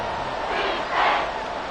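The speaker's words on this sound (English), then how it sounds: "The Arrowhead crowd in full roar" A football crowd at Arrowhead Stadium roars in full voice, a broad, sustained wash of cheering that swells near the middle and stays loud throughout.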